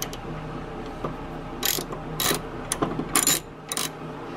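A ratchet tightens a 10 mm bolt during front reassembly of a 2012 Honda Pilot 3.5L engine, with several short bursts of rapid clicking close up.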